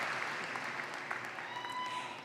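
Audience at a high school graduation ceremony in 2024 claps during diploma presentations, a moderately faint, continuous patter of many hands with a soft tonal whine and a brief voice mixed in, tapering slightly toward the end.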